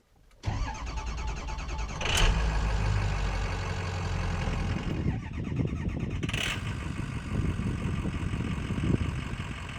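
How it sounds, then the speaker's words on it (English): The 6-liter engine of a Ford E350 4x4 campervan starts up and settles into a steady, deep idle, its low rumble continuous and close, with a couple of brief higher clanks along the way. "Would you just listen to that beautiful 6-liter engine noise?"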